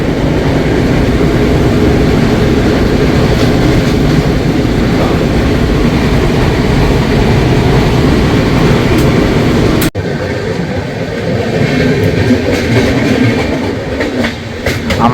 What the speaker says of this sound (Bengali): ট্রেনের স্পিড দেখো বন্ধুরা, ট্রেন এখন বালেশ্বর ঢুকবে